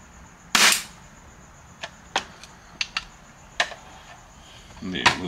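A 7-inch CTM carbine kit airgun charged to 125 PSI fires one sharp, loud crack, followed by several smaller clicks and taps of handling, with a faint steady hiss in the background.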